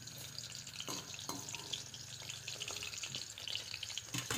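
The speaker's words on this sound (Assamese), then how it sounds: "তেলখিনি গৰম হোৱাৰ লগে লগে মই এনেদৰে এপিচ এপিচকৈ চিকেন পকৰাখিনি তাত দি দিছোঁ" Chicken pakora pieces frying in hot oil in a wok, a steady bubbling sizzle with a few light clinks, heard close at a modest level and with no talk.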